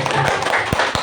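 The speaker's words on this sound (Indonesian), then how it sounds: "Beri tepuk tangan untuk saya." Clapping from a small group of parents at a school gathering, a few sharp claps standing out over a loud, steady background of voices and room noise.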